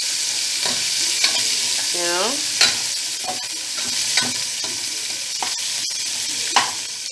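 Onions, garlic and tomato fry in a pot as the base for a beef soup, giving a steady close sizzle with a few sharp stirring scrapes and clinks.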